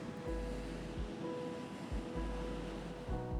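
Surf rolling onto Skardsvik Beach at the western tip of Iceland's Snaefellsnes area, with several low booming wave surges spaced about a second apart under steady wind and ocean roar.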